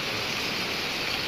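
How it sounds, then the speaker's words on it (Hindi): Rainwater pours in from all sides of a house after four or five days of steady rain, making a continuous, even rushing and hissing wash with no talk. "चारों तरफ से पानी आ रहा है"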